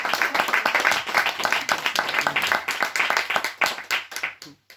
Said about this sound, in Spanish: Por eso yo pediría un sincero aplauso para estas mujeres que nos han traído.